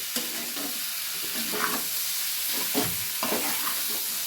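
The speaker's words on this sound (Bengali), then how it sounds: "দিয়ে এবার আলতো হাতে আলু, কড়াইশুঁটি আর মশলাটাকে নাড়াচাড়া করব।" Potatoes, green peas and spices fry loudly in a wok over high heat, a dense hiss broken by several scraping strokes of a spoon, close and with no voices.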